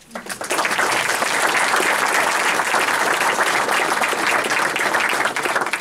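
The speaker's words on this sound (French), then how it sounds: "On va applaudir Benjamin." Audience applause at a trading conference on risk management, a dense, steady clapping that swells within the first half second and holds loud and even for about five seconds.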